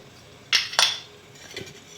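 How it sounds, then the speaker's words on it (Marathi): A metal kadhai is set down on a lit gas stove with two sharp clanks in quick succession, followed by a softer scrape and a faint knock in a quiet kitchen. "गॅस पेटवून घेतला आहे त्यावर आपण आता कढई ठेवून घेऊ आणि त्यामध्ये आपण आता तेल टाकू"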